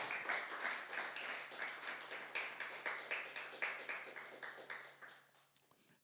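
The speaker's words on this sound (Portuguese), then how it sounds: "Aplauda ao Senhor." A church congregation claps during a worship service. The applause is dense and steady, holds for about five seconds, then thins and fades, with a low electrical hum underneath.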